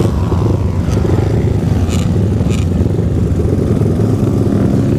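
Banshee quad and ATC 200X trike race across the dunes at Dunefest, engines droning loud and steady with a dense, rough rumble and a few brief higher whines rising above it.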